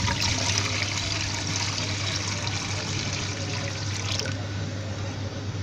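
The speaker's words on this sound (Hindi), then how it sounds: "तकरीबन 1 लीटर पानी डालते हैं।" About a litre of water pours into a cooking pot in a continuous splashing stream, close and steady, easing off near the end as a faint voice murmurs underneath.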